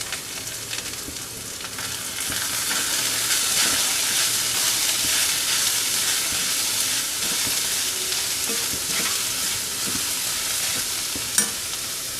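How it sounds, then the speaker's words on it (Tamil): Carrots sautéing with ginger garlic paste, a steady loud sizzle with stirring and hiss that holds for several seconds, and a brief clink near the end. "கேரட் சேர்ந்து நல்லா வதங்கி வரட்டும்."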